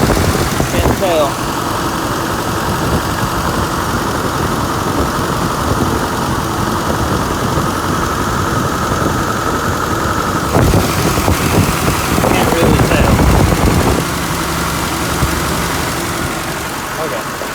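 An off-road rig's engine idles steadily and loudly up close, a low rumbling drone with a brief surge partway through, while someone talks briefly over it.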